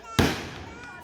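A firecracker rocket bursts at a birthday celebration, one sharp loud bang followed by a rumbling decay that fades over about a second.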